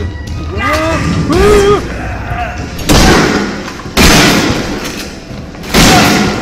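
Loud gunshots in the VR horror video game Resident Evil 7, three or four sharp booming blasts spaced a second or so apart, with a man's speech between them.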